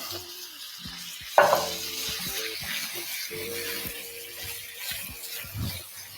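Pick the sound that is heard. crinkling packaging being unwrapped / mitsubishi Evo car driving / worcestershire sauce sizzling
worcestershire sauce sizzling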